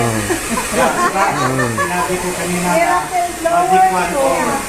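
An Iteracare blower device runs with a steady, loud airy hiss right up close, continuing under several people chatting and talking throughout.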